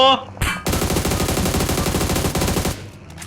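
Rapid automatic gunfire in the mobile battle-royale game PUBG Mobile, a dense run of loud, close shots lasting over two seconds after a few short opening bursts.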